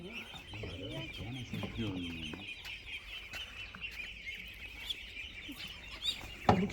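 Chickens and a rooster cluck in a rooster pen, with several close bursts of clucking early, then quieter fowl sounds, some wing flapping and a sharp noise at the end, under occasional talk.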